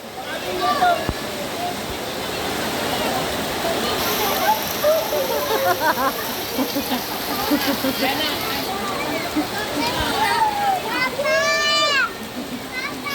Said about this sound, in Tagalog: Ah, lakas ng ulan.